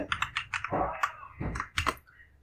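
A computer keyboard is typed on in short, quick bursts of close, crisp key clicks with brief pauses between groups, as a web address is entered.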